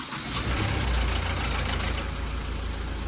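An SUV's diesel engine turns over and settles into a rough, rattling idle, loud and close, with a clattering knock on starting that continues throughout.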